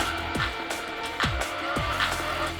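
Short course off-road racing trucks of 900-plus horsepower, Pro 2 and Pro 4 class, tear down the Big House dirt track, engines whining and dropping in pitch as they pass close by, several roaring by in quick succession.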